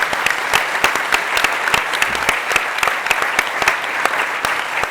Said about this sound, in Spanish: Este aplauso no estaba contabilizado en la cuenta de este año de las jornadas